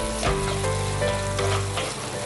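Crushed ginger, garlic and shallots sizzle loudly and steadily in hot oil in a pan, with a few stirring scrapes over the constant frying.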